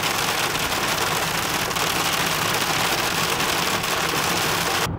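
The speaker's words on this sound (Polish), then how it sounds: "Deszczyk, deszczyk i po deszczu. Ulewa trwała może 9 minut." Heavy rain pours steadily onto a car driving along a steppe road in Kazakhstan, a dense, loud, continuous hiss with no speech, cutting off abruptly at the end.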